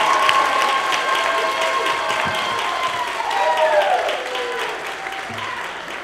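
An audience applauds at a practical nursing pinning ceremony, with dense, sustained clapping that fills the room and stays fairly loud throughout.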